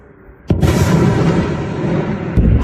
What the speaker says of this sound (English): There's going to be an explosion now.